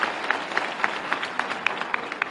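Audience applause at a youth dialogue event with a state chief minister in Bhopal: steady, dense clapping from a crowd, with sharper individual claps popping out in a loose rhythm throughout, no talking over it.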